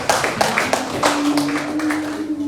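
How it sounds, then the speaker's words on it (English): A crowd claps in applause for the Man of the Year at a regional journalists' union retreat and awards event, with brisk, scattered hand claps and a faint steady tone beneath. "Please, a round of applause for him."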